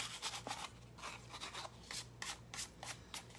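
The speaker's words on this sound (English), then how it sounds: "We want to make sure we get all of that adhesive covered with the leafing, and then brush it off." A brush scrubbing excess gold leaf off adhesive on a paper card: soft, close, rhythmic rasping strokes repeating about every half second, quiet throughout.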